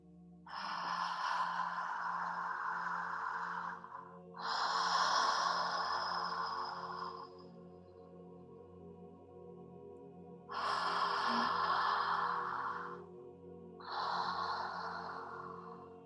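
Deep, slow human breathing in a calm meditation, four long airy breaths, each lasting a few seconds, separated by quiet pauses over a soft low drone.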